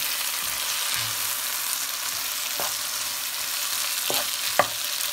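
Ginger-garlic paste frying in a pan for a chickpea bhuna with mashed potatoes, giving a steady sizzling hiss throughout, with occasional sharp spoon or spatula clinks against the pan as it is stirred.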